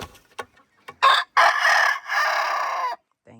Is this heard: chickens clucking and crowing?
yes